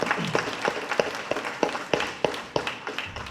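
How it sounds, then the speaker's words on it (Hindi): Crowd at a 12th Battalion reunion get-together clapping together in a steady, regular rhythm, about three sharp claps per second, sustained and fairly close. "उसके लिए बहुत बड़ा तालियां चाहिए"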